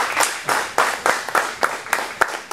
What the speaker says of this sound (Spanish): Un aplauso para Facundo, por favor.